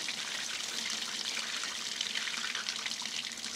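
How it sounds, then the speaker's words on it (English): Water hisses and trickles steadily as it drains from a blocked-off fire truck hose to release pressure, a continuous close splashing flow with no voices. "you've got to block both ends off to this hose and drain the pressure out of it"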